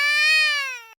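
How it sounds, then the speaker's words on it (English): One short, high-pitched squeaky cry, steady and tonal, fading out after about a second; nearby and alone. "That's my cat."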